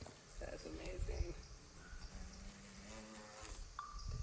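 Wings of Wallace's giant bee buzz in a steady low drone, faint and continuous, with brief murmurs of people in a quiet room around it.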